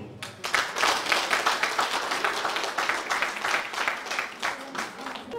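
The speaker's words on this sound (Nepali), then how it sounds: "यो प्रतिवेदनलाई जोरदार ताली बजाएर अनुमोदन गरिदिनको लागि म हार्दिक अनुरोध गर्दछु" Members of a savings and credit cooperative clap together at a general meeting. The applause is dense, steady and sustained, heard fairly close and filling the hall for several seconds.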